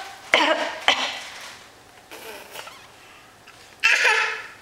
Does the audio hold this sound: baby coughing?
yes